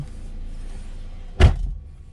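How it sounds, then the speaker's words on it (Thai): A single solid thud as the door of a 2003 Honda Civic 1.7 EXi automatic is shut from inside, a short deep slam against a quiet idling background. "เอาละครับ ปิดประตูแล้วครับ"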